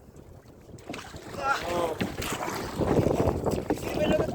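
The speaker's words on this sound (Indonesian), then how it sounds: "Kencang banget ombaknya." Strong wind buffets a small rowed fishing boat as rough waves slap against it on Lake Toba, a steady roaring rush with loud gusts, while a voice calls out briefly over the noise.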